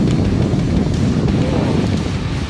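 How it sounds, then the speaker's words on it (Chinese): Strong wind buffeting the microphone beside the Dawen River while fishing, a loud, steady roar with no pauses. "因为起风比较大"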